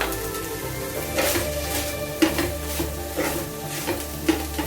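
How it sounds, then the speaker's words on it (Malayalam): Masala for Irani pola stirred with chopped coriander leaves in a pan, a low steady sizzle with rhythmic scraping strokes of a spoon roughly every second, close up and with no talk. "നമുക്കിനി ഇതിലേക്ക് കുറച്ച് മല്ലിയില അരിഞ്ഞതും കൂടെ ഇട്ട് കൊടുത്തിട്ട് നന്നായിട്ടൊന്ന് മിക്സ് ചെയ്ത്"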